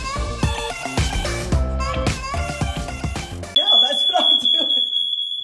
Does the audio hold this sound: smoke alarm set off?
yes